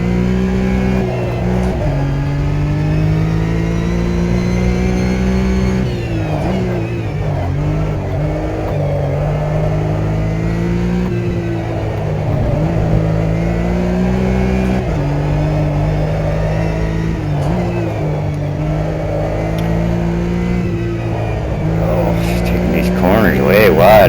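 A fast car engine runs hard, its droning note rising and falling steadily as it revs and accelerates through gears, loud and continuous for the whole stretch.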